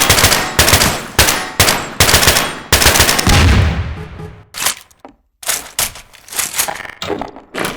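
SCAR rifle fire in Garry's Mod crackles in rapid, loud bursts of automatic shots separated by brief pauses, with a few sharper single cracks near the end.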